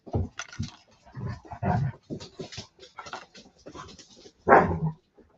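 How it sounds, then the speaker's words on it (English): Dogs bark, whimper and pant in short uneven bursts, fairly close, with one louder bark near the end. "The dogs are trying to get what they got."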